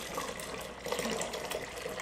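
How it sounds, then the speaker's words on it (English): Chilled water pours steadily from a container into a strawberry banana sorbet mix, a continuous splashing hiss with no talking. "So we're going to take 4 cups of water, chilled,"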